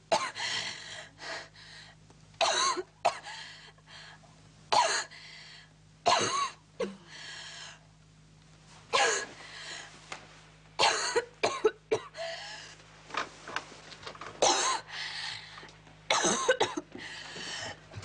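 A young girl coughs repeatedly in short, harsh bursts, with hacking fits and pauses between them, close and clear in a quiet room at night, with no talking.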